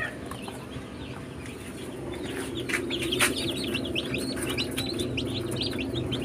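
Newly hatched Rhode Island Red chicks cheep in a dense, continuous chorus of high peeps over a steady low rumble, with free-range chickens nearby.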